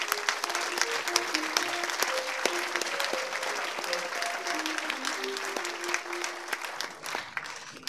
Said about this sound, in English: Let's have a round of applause for all of them.